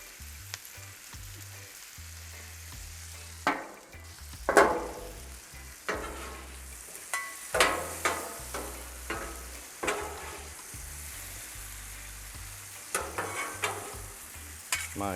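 T-bone steaks sizzle in olive oil on a Blackstone griddle, a steady close frying hiss broken by repeated sharp scraping and turning clatters from a spatula.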